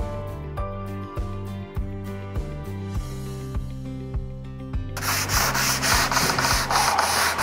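A plaxed PVC window frame is scraped with short, rhythmic strokes, close and steady, then a denser continuous hiss of abrasive rubbing takes over near the end.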